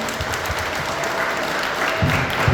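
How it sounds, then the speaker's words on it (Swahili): A church congregation claps together in a dense, continuous patter of applause that swells slightly toward the end, with no voices heard over it. "Wapigie makofi vizuri."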